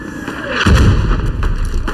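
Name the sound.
machine gun fire in WW1 Gallipoli video game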